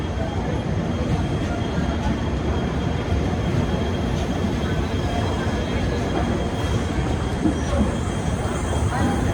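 Pooja Express passenger train, Ajmer to Jammu Tawi, slowing toward a red signal, heard as a steady broadband rumble of rolling coaches and wheels throughout, close and continuous, with faint high wheel tones.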